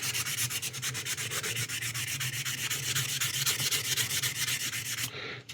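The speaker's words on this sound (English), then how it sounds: "But as you can see, I'm going to sand most of this off." Wet sandpaper rubs steadily against a resin model kit part in quick, even back-and-forth strokes, close and continuous with no talking.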